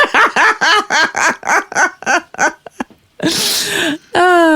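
A rapid series of short, breathy vocal bursts builds up, then breaks into one loud, forceful sneeze followed by a brief voiced sound.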